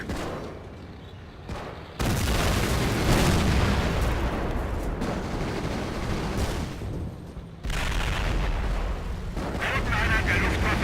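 Repeated heavy booms of mortar and artillery fire in a World War II strategy video game, loud and sustained across the clip with a dense battlefield rumble and someone talking over it.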